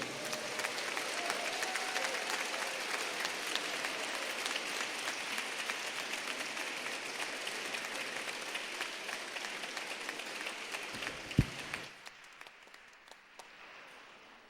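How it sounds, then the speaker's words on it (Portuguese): Long, dense applause for graduates at a solemn award ceremony, a steady wash of many hands clapping that drops away sharply near the end after a brief thump. "uma salva de palmas para todos os diplomados"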